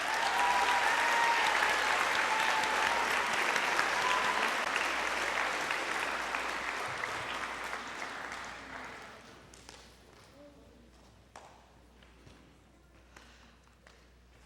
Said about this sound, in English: give one more round of applause for these All-Region students